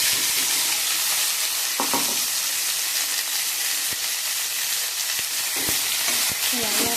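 Dried chillies and star fruit pieces fry for a pickle, a constant close sizzle broken by occasional clicks and scrapes of a stirring spoon.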